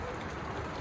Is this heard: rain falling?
yes